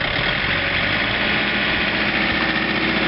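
A John Deere 2720 compact tractor with a 47-inch snow blower idles at about 1700 RPM, a steady, close, rough engine rumble with no change in pace throughout.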